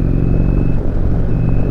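Off-throttle exhaust note of a 2019 Indian Chieftain motorcycle, a steady low rumble heard up close while riding, with no voices over it.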